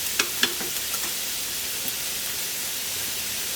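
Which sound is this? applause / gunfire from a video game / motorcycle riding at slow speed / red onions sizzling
red onions sizzling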